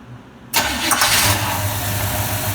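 A Chevy-powered 1982 Checker engine cranks and catches abruptly after a lifter replacement, then settles into a steady, loud close-up idle with a faint ticking.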